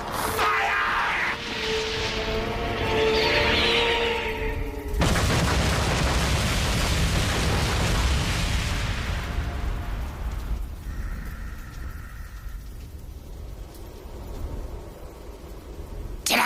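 Projectiles launched in an anime battle explode in a sustained roar of blasts and rushing noise, loud and dense, then fade into lower rumbling with a faint whine.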